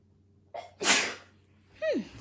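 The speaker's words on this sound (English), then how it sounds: "I'm gonna sneeze." A single close sneeze indoors, a sharp inhale followed by a loud burst, then a short sniff or vocal tail afterward, otherwise quiet.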